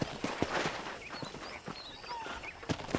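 Horse hooves clip-clopping at a walk on a ranch in the video game Red Dead Redemption, an uneven series of close, crisp thuds with faint chirps in the background.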